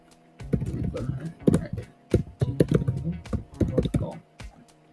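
Typing on a computer keyboard, a close series of quick clicky keystrokes in short bursts with brief pauses between them, and someone talking over the clatter.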